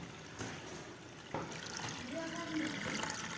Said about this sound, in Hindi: और यहाँ पे मैं भर रही हूँ पानी